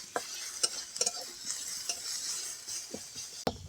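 Ginger garlic paste fries with onions in a pan, a soft continuous sizzle broken by sharp intermittent clacks and scrapes of a spoon stirring against the pot, close and quiet.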